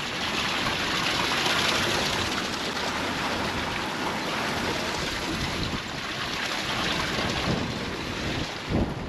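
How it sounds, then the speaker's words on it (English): Continuous rushing water, a broad steady roar of a cascade with some wind buffeting, fairly close and unbroken throughout. "So there's a bit of a cascading waterfall here."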